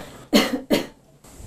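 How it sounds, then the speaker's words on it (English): Two sharp coughs into an elbow as a health demonstration, close and distinct, followed by a faint breath. "That would be coughing or sneezing into your elbow."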